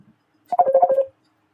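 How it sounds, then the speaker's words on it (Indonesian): A telephone sounding during a coding lesson, a short rapid burst of electronic tones lasting about half a second, clear and isolated in otherwise near silence. "ada telepon."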